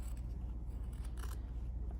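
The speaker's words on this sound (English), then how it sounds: "I'm going to go back through and trim these corners up" Scissors snip through fabric while trimming the corners of a quilt's bias binding, a few close, quiet cuts over a low background hum.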